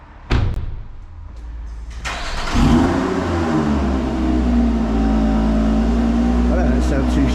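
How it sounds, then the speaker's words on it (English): A Lotus Emira sports car engine fires and revs indoors, rising to a loud sustained roar after a couple of thuds, with people talking under it. "The car sounds amazing from outside."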